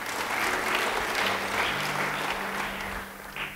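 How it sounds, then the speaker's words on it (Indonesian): An audience at a church sermon claps in a full, sustained round of applause that fades slightly toward the end, with a low hum underneath. "Beri tepuk tangan bagi dia."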